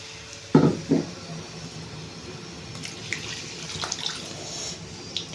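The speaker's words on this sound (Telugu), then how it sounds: "నేను కర్రీకి తగ్గట్టు వాటర్ వేసుకుంటున్నానండి." Water is poured into a stuffed eggplant curry cooking in a pan, giving a short splashing burst near the start. Quiet, soft liquid sounds and faint clinks follow.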